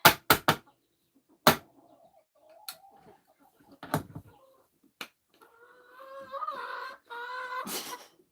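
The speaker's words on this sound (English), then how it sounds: "eh, those chickens. They're so loud." Chickens cluck and squawk in bursts at middle distance, with sharp knocks and clatters scattered between the calls and a louder run of clucking near the end.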